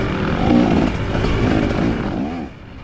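A dirt bike runs along a trail at Goshen, its engine buzzing loud and near with rising and falling revs before the sound eases off slightly toward the end.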